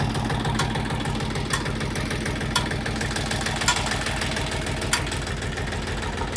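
A Kentavr 244 tractor drives a Lisicki 1.35 m rotary mower through a field, its engine chugging in a steady, rhythmic pulse with regular sharp ticks and a loud, continuous mechanical drone close by.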